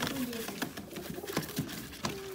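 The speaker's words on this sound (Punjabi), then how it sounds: "ਨਾਯਾਬ ਦੋਸਤੋ ਸਿਆਲਕੋਟੀ ਕਬੂਤਰ ਇਹ ਪੂਰਾ ਜੋੜਾ ਜੀ" A pair of Sialkoti pigeons coo softly in a few short, gliding calls, faint against a light background patter and shuffling.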